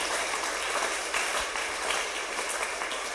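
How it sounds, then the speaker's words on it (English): A church congregation claps together during a worship service, a dense, steady wash of many hands filling the room for a few seconds with no clear speech. "Clap unto our Lord Jesus."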